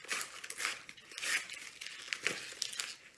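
Shelf liner being cut from a roll into 6-inch pieces for a Dollar Tree craft, giving crisp crinkling and tearing bursts in uneven, close strokes with no voices.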